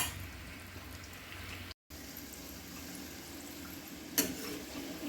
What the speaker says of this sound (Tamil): பாருங்கள், நல்லா டீப் ஃப்ரை பண்ணிட்டோம்.